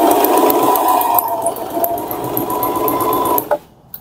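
Singer/Butterfly electric sewing machine running a zigzag stitch, a steady loud mechanical whir with rapid needle clatter for about three and a half seconds, then stopping abruptly.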